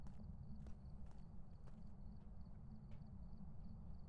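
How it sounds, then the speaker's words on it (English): Footsteps in the Phasmophobia ghost-hunting game, a string of soft, evenly spaced thuds over a low rumbling background, faint and somewhat distant, with no talking. "I heard a footstep."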